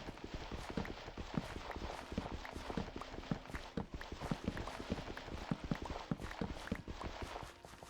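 Horse hooves in the blocky sandbox game Minecraft, with a steady run of close, crisp clip-clop steps over a constant background bed and no talk.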